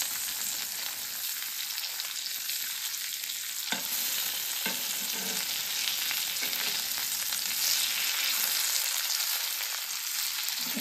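Fresh repti fish fry sizzles steadily in a pan, with a few soft scraping knocks as the pieces are flipped over; a continuous, fairly loud hiss runs throughout with no talking.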